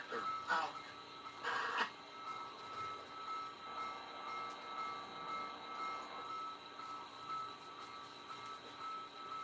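A model train runs on a home layout with a Conrail defect-detector announcer, giving a faint steady rolling hum with a couple of brief bursts near the start.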